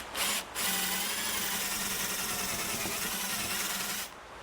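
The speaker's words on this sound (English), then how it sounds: "be drilling a hole kind of at a diagonal angle here, deep enough so I can plant this tree all the way in here" Power drill boring a diagonal hole into soft pumice stone, a steady gritty grinding whine held for several seconds after a brief start, close and fairly quiet.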